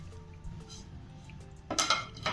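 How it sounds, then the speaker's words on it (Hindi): A spoon works through dahi pakora batter with chopped coriander, salt and baking powder in a bowl. Quiet scraping gives way to a louder, brisk burst of stirring and clinking near the end. "इसको अच्छी तरह मिक्स करेंगे"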